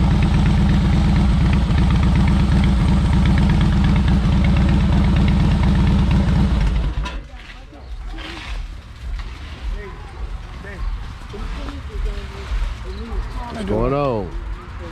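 A motorcycle engine idles loudly and steadily with a low, even rumble for about seven seconds, then cuts out, leaving quieter background noise and talk at an outdoor community clean-up gathering of motorcycle club members.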